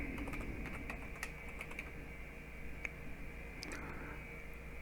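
Steady typing on a computer keyboard, close and quiet, as scattered key clicks tap out in irregular bursts over a low background hum.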